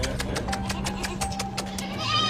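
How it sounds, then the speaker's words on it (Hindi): Goats on a village farm bleat in a rapid series of short, repeated calls, fairly close and loud over a steady background hum. "आ भाई सलमान, खिला दिया सारी बकरी को चारा।"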